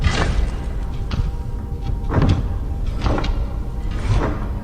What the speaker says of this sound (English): we activate the keyhole, puts the claw in, and unlocks the door for us